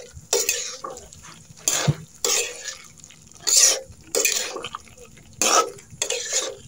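Half-boiled papaya is stirred and sautéed in a thick gravy in a pan, with about seven close, sharp scraping stir strokes coming in irregular bursts over a soft background and no talking.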